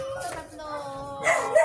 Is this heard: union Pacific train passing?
no